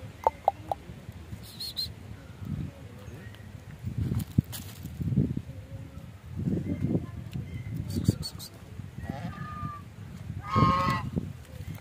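Scattered quacking and honking calls from ducks, some close and some farther off, mixed with faint background voices and forest outdoor ambience.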